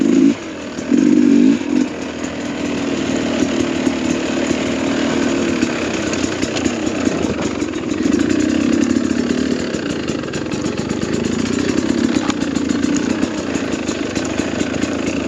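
A motorcycle fitted with a Lectron carburetor idles steadily while coasting downhill through mountain pine forest, a strong continuous engine drone that holds without stalling, close and loud throughout.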